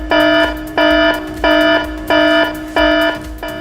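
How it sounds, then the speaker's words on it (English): A workplace emergency alarm sounds in five evenly spaced loud electronic buzzing tones, each about half a second long with short gaps between them. "In case of any emergency, an alarm will be sounded."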